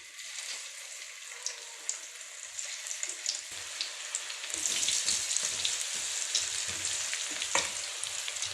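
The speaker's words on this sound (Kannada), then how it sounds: "ಇದರೊಳಗೆ ಬಿಡ್ತೀನಿ ಡೀಪ್ ಫ್ರೈ ಮಾಡ್ತಾ ಇದ್ದೀನಿ" Cauliflower gobi fry deep frying in hot oil: a steady, dense crackling sizzle that grows fuller and louder about halfway through, with scattered pops and no talk.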